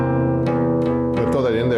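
A C dominant 7th chord voiced with E as the lowest note, sustained and ringing with several notes re-struck through the passage, played alone without talk.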